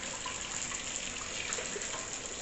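Steady rushing of water pouring into a container, a continuous bright hiss with no pauses, close by.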